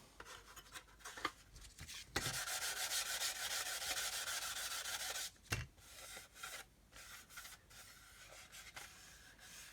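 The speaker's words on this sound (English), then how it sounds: "we can come along with our 600 grit sponge just to make sure we've got a nice curve on there" A 600 grit sanding sponge rubs across a plastic model aircraft kit part in quiet, steady scratchy strokes, with a few brief knocks between passes.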